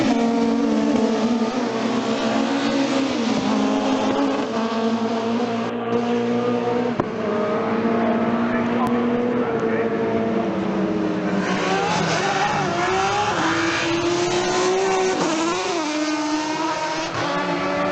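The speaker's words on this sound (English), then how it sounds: "some of the best sounding Super Tourers ever were Mondeos." Ford Mondeo Super Touring race car engine, a loud, sustained high-revving howl with rising and falling pitch through gear changes, continuous throughout.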